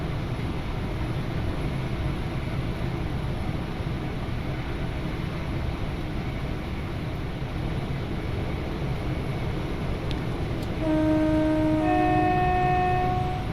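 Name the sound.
Class 37 diesel train passing, horn, from Train Simulator 2021 video game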